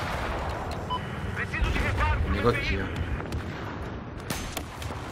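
Gunfire striking the player in a Sobrenome Aggressive Portuguese online shooter match, with a dense burst of shots and impacts mixed under excited talk from a player.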